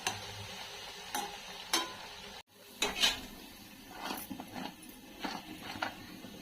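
Battis are turned over while roasting for a Khandesh-style varan batti meal, giving quiet clinks and scrapes of utensils against a pan or dish at an irregular pace under a faint background hiss.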